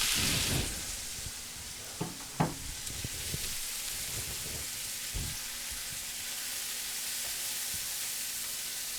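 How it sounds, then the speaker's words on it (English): Onions, carrots and celery sautéing in a pan for osso buco, a loud continuous sizzle like steady rain, broken by a few clinks and knocks as the vegetables go in and are moved around. "the onions, carrots, and celery. Now we'll just put those in. And we'll saute them down for just a couple of minutes."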